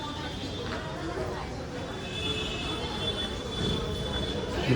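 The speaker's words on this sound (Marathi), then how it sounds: "समोरच बदलापूर गाडी आली आहे" A train rumbles into Badlapur station with a steady low roar and faint metallic squeal, crowd chatter and voices mixing over the continuous noise.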